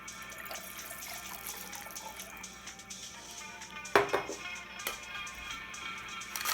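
Apple juice is poured into a mead cocktail with honey liqueur, a soft continuous liquid trickle with a small splash and clink partway through, close and fairly quiet, with no talking.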